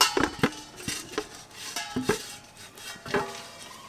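A large metal cooking pot being greased with ghee for a vegetable biryani, with several clanking metal knocks and scrapes of a utensil against the pot spaced irregularly at close range and no talking.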